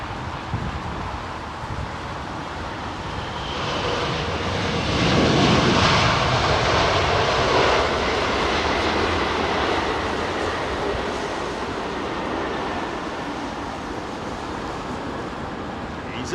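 An airliner arriving on runway 27R at London Heathrow passes overhead, its broad jet roar swelling to a peak, then slowly fading into a sustained distant rumble.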